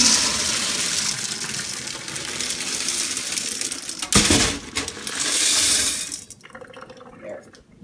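Water drains and gushes out of a Sedirea japonica orchid pot during repotting, a continuous rushing pour that briefly clatters, then trails off to quiet drips.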